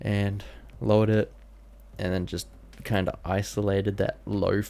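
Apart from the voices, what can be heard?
No everyday noise stands out behind the speech.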